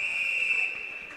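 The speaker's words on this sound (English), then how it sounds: "But Murphy makes a save and holds on for the whistle." A referee blows a sharp, shrill whistle for over a second at a university ice hockey game between SFU and UVic, loud and steady before tailing off, with faint arena noise beneath.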